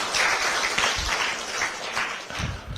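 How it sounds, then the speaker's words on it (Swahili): Audience applause fills a political meeting hall, a dense sustained wash of clapping from many hands, fairly loud and close, lasting a few seconds without speech. "Tumpige makofi."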